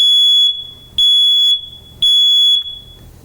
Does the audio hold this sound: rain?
no